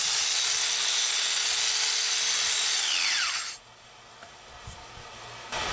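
A bandsaw cuts the threads off a steel pipe, a steady loud whine and rasp for about three seconds that then stops, leaving a quiet room with faint clatter.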